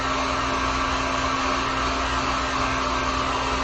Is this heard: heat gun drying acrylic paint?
yes